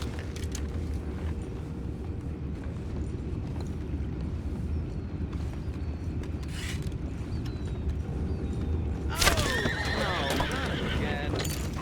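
Horses whinny and hooves clip-clop in the Western video game Red Dead Redemption 2, set over a low steady ambient bed with a louder, brighter neigh near the end.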